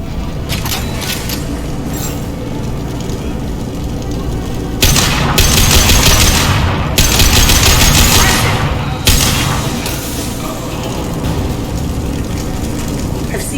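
Gunfire in the video game Mass Effect 2 crackles in dense repeated bursts amid a rumbling battle backdrop, growing louder in two stretches of heavier automatic fire.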